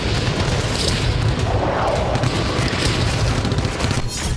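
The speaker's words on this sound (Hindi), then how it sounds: "स्वेदा में कबीलाई लड़ाके आरपीजी से फायर कर रहे हैं, गोलियां बरसाई जा रही हैं।" Combat in Sweida, Syria, with tribal fighters firing RPGs and guns: a dense, continuous stretch of booming blasts and rattling gunfire, loud and unbroken throughout, with no voices heard.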